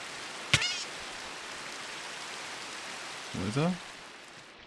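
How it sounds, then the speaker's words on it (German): Steady hiss of rain falls in Minecraft (All the Mods 8), a constant broadband wash lasting throughout, broken by a couple of short chirping game blips; a person briefly speaks over it. "Jetzt habe ich den Regen wieder beseitigt."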